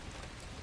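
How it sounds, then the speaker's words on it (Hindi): Steady rain falls as a dense, even hiss of drops on a surface, faint and continuous throughout a short stretch of a spooky night scene in a horror story. "या फिर ये बारिश की आवाज़ें होंगी।"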